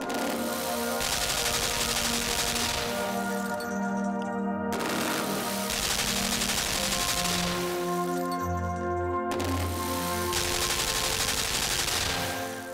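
Sustained gunfire in the game Limbo, a gun spraying many bullets in three long, loud, continuous bursts with brief gaps, set over droning tones and no talk.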